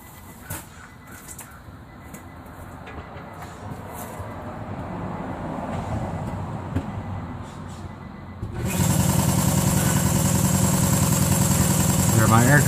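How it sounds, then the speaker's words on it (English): A shop air compressor kicks on partway through, jumping from a quiet, clattery workspace with light tool noises to a loud, steady, buzzing drone that keeps running close by. "my air compressor just got turned back on"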